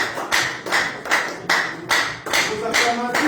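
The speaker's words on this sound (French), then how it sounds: "Est-ce qu'on peut acclamer pour les serviteurs de Dieu?" A church congregation claps in strong, regular unison beats, loud and close, with a few voices rising among the claps.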